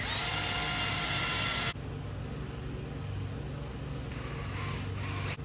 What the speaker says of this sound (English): I start with a 1/4-inch drill bit and then work my way up to a bigger bit